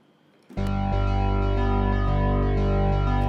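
A worship synth patch kicks in abruptly and plays a steady, bright arpeggiated pattern of sustained tones, loud and alone with no voices.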